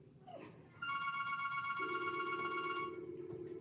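A telephone ringing during a hairstyling session in a salon, a faint electronic ringtone with repeating tonal chimes over quiet room background.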